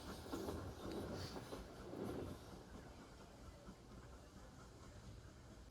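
A Great Western Railway class 800 train pulls into a station, a moderate rumbling roll with faint clatter that eases as it slows, heard from the platform without speech.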